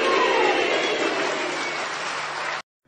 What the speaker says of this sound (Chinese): 谢谢大家给我一个人的掌声